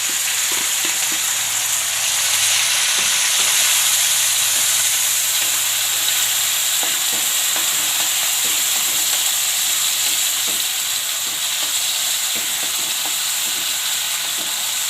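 Tomatoes frying in hot oil for fafdi gathiya curry, a steady close sizzle with broadband hiss throughout and scattered small crackles and pops, no voices.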